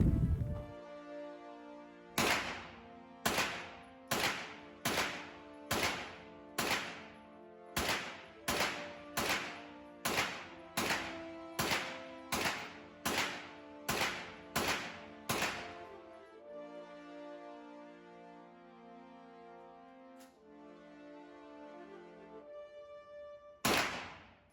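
Shots from a KRISS Vector CRB Gen 3 rifle: about fourteen loud, sharp reports in a steady, evenly spaced string, each with a short ringing decay, then a pause, one more distant crack and a lingering rumble.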